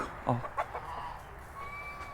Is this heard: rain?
no